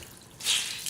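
A soaked kitchen sponge at a sink lets a single brief drip of water fall, a short soft splash in an otherwise quiet moment.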